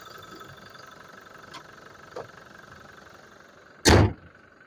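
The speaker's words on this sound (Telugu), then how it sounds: "ఇంజన్ అయితే చాలా అంటే చాలా బాగుంది వెహికల్." A 2022 Toyota Innova Crysta 2.4 G idles with a low, steady hum, broken by a couple of light knocks and one loud thump near the end.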